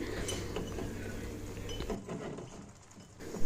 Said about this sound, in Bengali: এখন হচ্ছে আর একটু মিক্স করে দিচ্ছি, নেড়ে চেড়ে সব কিছু উপর নিচ করে